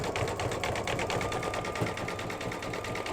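An embroidery machine sews a thick satin stitch on an in-the-hoop mug rug, a fast, steady, even rattle of needle strokes that holds close and constant the whole time with no one talking.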